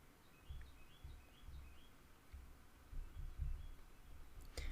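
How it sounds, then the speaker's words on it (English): Birds chirping outside a window, heard as faint, repeated short high chirps at a distance, mixed with soft low thumps and clicks, with no talking. "Those birds certainly are making a ruckus outside, aren't they?"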